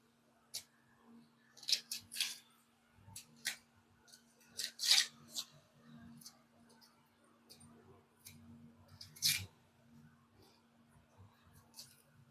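Onions are cut on an aruvamanai, a floor-mounted curved blade, giving sparse crisp slicing clicks and snaps at an irregular pace, some close and sharp, with quiet gaps between them.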